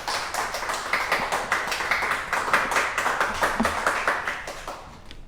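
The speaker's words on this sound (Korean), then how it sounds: "우리 박수로 환영하겠습니다" A Sunday church congregation claps to welcome a missionary to the pulpit, a steady, fairly rhythmic round of applause in unison that holds at moderate loudness and tapers off at the end.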